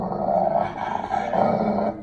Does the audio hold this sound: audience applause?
no